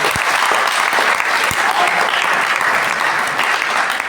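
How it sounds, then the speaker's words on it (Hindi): Students give their chemistry teacher at a Career Point coaching class a loud, sustained round of applause, dense steady clapping filling the room from start to finish with no pauses. "हमारे अंदर सर के लिए एक बार जोरदार तालियां"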